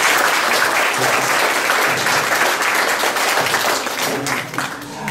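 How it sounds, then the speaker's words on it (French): Audience applause for the panelists at the close of a roundtable on research and innovation in fashion and luxury, steady dense clapping from a crowd that carries on for several seconds and thins slightly near the end. "Je pense qu'on peut applaudir nos intervenants."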